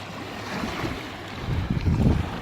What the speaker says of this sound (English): the water is lapping up and touching this front foot sometimes